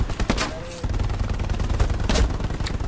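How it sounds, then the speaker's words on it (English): Machine gun fire in the video game Hell Let Loose, with sharp bursts of shots cracking over a loud rumbling battlefield din. The reports come in irregular clusters rather than one steady stream. "There's an MG! Medic! An MG that's ripping us apart."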